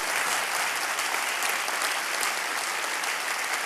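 Steady, dense applause from a church congregation at a Sunday service, welcoming a visiting pastor to the front; a full, even wash of clapping that holds at the same level throughout, with no voices on top.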